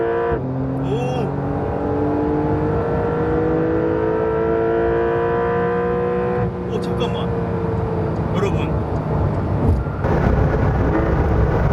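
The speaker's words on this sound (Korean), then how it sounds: "빨리 스포츠 플러스 모드로 넣고 부스트 켜서 달려야겠어" A Porsche sports car engine in Sport Plus mode revs and accelerates with rising, falling tones as gears shift, loud and close, while someone speaks briefly over it.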